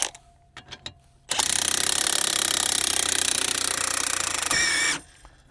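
AGM scissor jack raising a Polaris RZR PRO XP, heard as a few light clicks and then a loud, steady, rapid ratcheting mechanical whir lasting several seconds before it stops abruptly.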